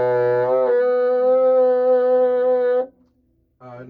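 A bassoon plays a sustained high C using the flick key, starting on a lower pitch then sliding up and holding steadily before stopping, with a brief new note at the end.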